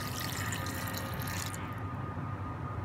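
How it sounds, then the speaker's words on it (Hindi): A glass of water poured into a blender holding butter and cream while making desi ghee, a steady close liquid splash and rush that cuts off partway through. "अब हम इसमें एक ग्लास जो है वो पानी का ऐड करेंगे"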